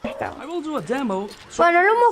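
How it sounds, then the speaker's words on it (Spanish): A small pet dog gives high, whiny yips and short barks, close and fairly loud. A voice talks over it, and a longer sustained yelp comes at the end. "mi perrito está ladrando"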